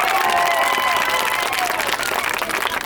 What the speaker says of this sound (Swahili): Makofi kwa mwalimu.